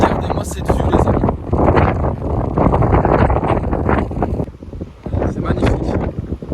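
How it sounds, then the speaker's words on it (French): Strong, violent wind buffets the microphone outdoors at a scenic lookout, a loud continuous roar with gusts that dip briefly near the end, while people talk over it. "Le vent là, c'est violent"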